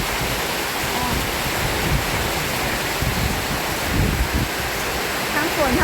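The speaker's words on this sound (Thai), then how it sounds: "ในที่สุดเราก็เจอพายุฝนแล้วเด้อ" A rainstorm with strong wind and heavy rain makes a constant loud broadband roar and rush, with a faint voice partly buried underneath.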